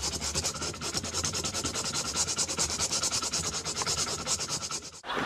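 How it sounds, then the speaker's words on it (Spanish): A piece of wood is sanded by hand in fast, even back-and-forth rasping strokes, loud and close, continuing steadily for several seconds before stopping abruptly at the end. "solo está lijando una madera"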